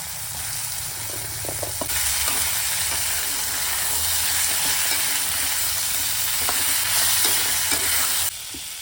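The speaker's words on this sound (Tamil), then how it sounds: "தக்காளி நல்லா வதங்கணும் நம்ம எடுத்து வச்சிருக்க முருங்கைக்காயை போட்டுக்கலாம்" Drumsticks and tomatoes sizzle and hiss steadily in an oiled pan for a Tamil murungai kaai poriyal, with occasional scraping stirs. The frying sounds are close and continuous, and no one speaks.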